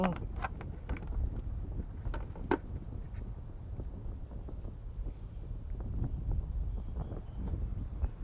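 Wind at the seaside cape of Laem Thuat buffets the microphone in low, gusty rumbles and irregular thumps, continuous and close, with no talking.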